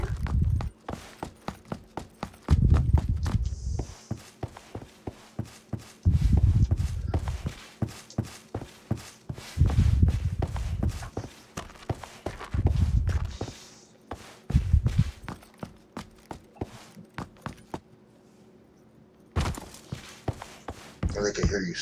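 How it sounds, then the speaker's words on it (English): Heavy player footsteps stomp in PUBG, a steady run of thudding steps in quick bursts, close and loud, with brief pauses between runs. "they can hear you stomping in this game"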